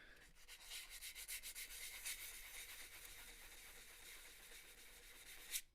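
A wooden seam at a guitar neck volute is hand-sanded with 120-grit sandpaper, giving a steady, soft rasping scrub of quick back-and-forth strokes, with no voices.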